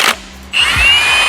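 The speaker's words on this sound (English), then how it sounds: "So I'm just removing these bolts in like a cross pattern." A power tool removing cylinder head bolts from an engine gives a short burst of whirring, then a rising, high-pitched steady whine as a bolt spins out, loud and close.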